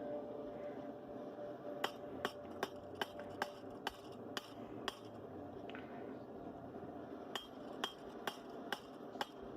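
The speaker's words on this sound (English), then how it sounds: "as I've been hammering on the thin edge of this thing the whole time that I've been drawing down the tang" A hammer strikes the thin edge of a small puukko knife's tang while it is drawn down at the forge, ringing in sharp, spaced metallic blows, in bursts of several hits with pauses, over steady workshop hum.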